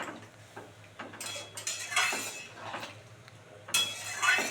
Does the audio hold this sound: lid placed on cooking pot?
yes